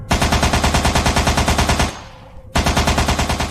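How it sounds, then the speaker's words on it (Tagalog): Rapid machine-gun fire rattles in dense, evenly spaced bursts in an animated horror story set in the Sierra Madre mountains: a long loud volley, a brief pause with a fading echo, then another burst, close and alone. "ay sunod-sunod na putok ng barilang pumaimbabaw sa kabundukan ng Sierra Madre."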